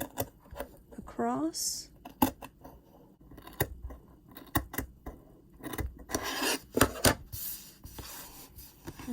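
Scissors snip across crochet yarn fringe on the ends of a mug rug in a series of close, crisp rasping cuts, with someone talking between and over them.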